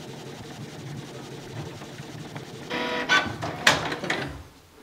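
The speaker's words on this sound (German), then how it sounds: "Drucker geht schon los." An inkjet photo printer running a print job indoors, with a low background hum followed by louder mechanical whirring and clattering bursts of the paper feed and print head over the final seconds.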